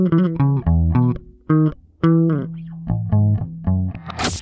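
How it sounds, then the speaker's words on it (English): An electric bass guitar plays a grooving line of deep, sustained notes in a rock-and-roll style, loud and close with short pauses between phrases and a bright hit at the very end. "It makes the music groove with its deep sounds like this."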